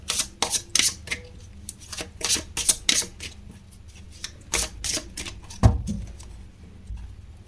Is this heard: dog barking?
no